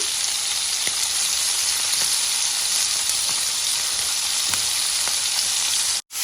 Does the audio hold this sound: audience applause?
no